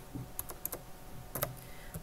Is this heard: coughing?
no